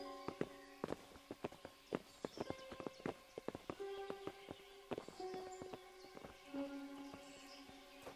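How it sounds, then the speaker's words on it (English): Horse hooves clip-clop in Kingdom Come: Deliverance, a string of sharp, uneven hoof strikes at moderate loudness under sustained musical tones, with no talk. "Bring the horses."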